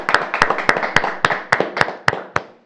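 A small group welcomes a guest onto a political talk show with about ten sharp, evenly spaced claps that slow and fade toward the end.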